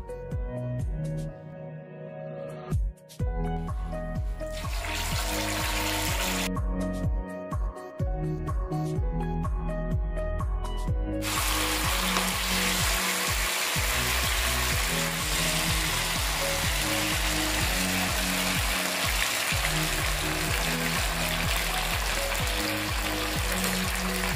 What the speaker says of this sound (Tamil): இப்போ எண்ணெய் காய வச்சு வச்சுருக்கிறோம். இப்போ ஃப்ரை பண்ணி எடுத்துக்கலாம்.